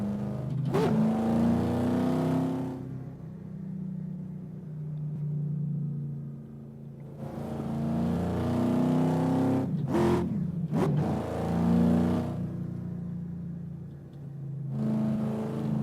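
A car engine in a racing video game on the L.A. Canyons track roars in sustained bursts of revving and acceleration, loud and steady, dropping briefly between runs and then climbing again.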